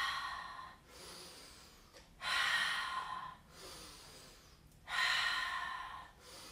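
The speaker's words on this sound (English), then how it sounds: "Breathe in, breathe out, breathe in, breathe out." Slow, deep yoga breaths through the nose and mouth, three long airy inhales and exhales in a steady cycle, close and clear with no talking.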